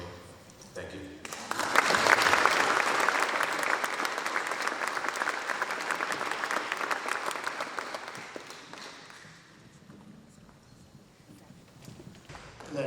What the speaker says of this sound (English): the round of applause should be for my parents and not for me